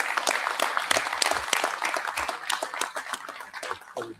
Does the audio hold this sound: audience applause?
yes